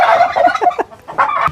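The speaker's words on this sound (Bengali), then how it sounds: "টার্কিতে ও ডাক দেয়।" Close, loud turkey gobbling in rapid warbling bursts, several calls in quick succession with brief pauses, on a bird farm, with no talk.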